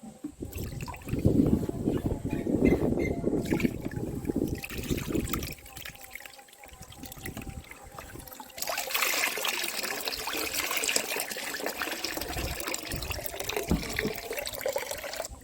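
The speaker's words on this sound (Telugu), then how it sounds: "ఇప్పుడు మనం దీన్ని ఈ ఒక ఇరవై లీటర్లు ఉంటాయి దీంట్లోకి మనం వడకట్టుకుందాం" Liquid made from aloe vera and jaggery is strained into a 20-litre container, trickling and splashing at close range in uneven bursts with a brief pause midway.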